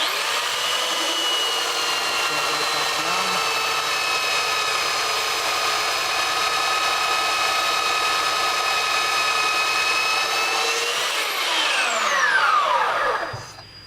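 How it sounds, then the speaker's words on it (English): A power grinder holds a steady high whine while a utility fighting knife blade is ground at an angle, loud and close for many seconds before the motor winds down in a falling tone. "just keep grinding until I have straight patterns the entire length"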